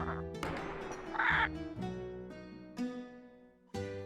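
Polly the parrot squawking in the Nancy Drew Curse of Blackmoor Manor game, harsh tonal caws and a shrill burst over a steady droning ambient backdrop, close and clear with no talking.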